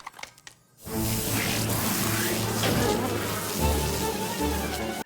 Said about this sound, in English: letting loose a beehive in the classroom